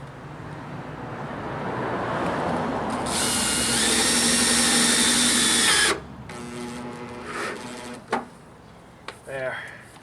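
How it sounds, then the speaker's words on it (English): A power drill drives a screw into a house gutter, whining at a steady high pitch for about three seconds before stopping, with lighter mechanical clatter and handling noises after it. "Let me go ahead and cinch this screw in."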